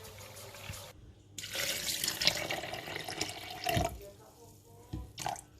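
Tap water pours into a NutriBullet cup holding almonds, filling it right up: a steady, close gushing splash that runs for several seconds, stops briefly, then resumes, with a short trickle near the end.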